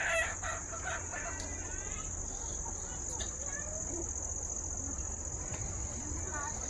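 A rooster crows a few times at a free-range country chicken farm in the evening after rain, set against a steady high insect drone and low background hum.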